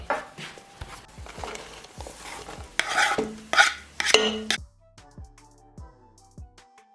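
Potato and leek sizzle with bacon in a pan while a utensil stirs, giving scraping and clinking knocks over a soft frying hiss. It grows busier in the middle, then settles to quiet sizzling and occasional taps.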